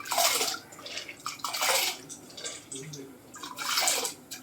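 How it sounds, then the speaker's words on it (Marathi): Water splashes and sloshes in several bursts as washed lentils are tipped into a pot of hot water, with soft drips between. "आता डाळ मी धुवून त्यामध्ये टाकते."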